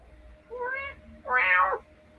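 A pet cat meows twice indoors, a short call followed by a longer, louder, more insistent meow, close to the microphone with no talk over it.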